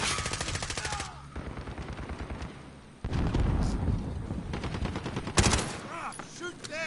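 Heavy automatic gunfire from Call of Duty: Modern Warfare rattles loud and close in long bursts, with a booming blast midway and more shots near the end; a voice speaks faintly underneath.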